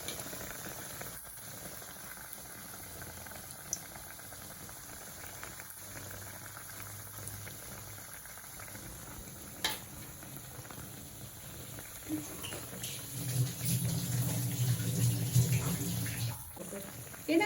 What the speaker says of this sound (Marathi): आणि हळूच असं आपण ह्या तेलामध्ये हळू सोडायचं. बघा असं हळू सोडायचं आणि तळून घ्यायचं आपण.